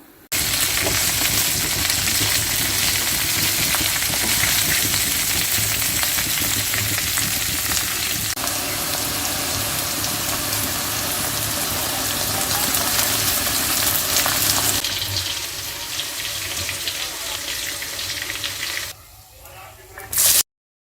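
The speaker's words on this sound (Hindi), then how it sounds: "तो आपने इसको 10 मिनट तक फ्राई करना है हल्की आंच पे, जब तक भिंडी सॉफ्ट नहीं हो जाती।" Okra frying in oil on a low flame for a dhaba-style masala bhindi, a steady close broadband sizzle that runs unbroken and ends with a brief clatter near the finish.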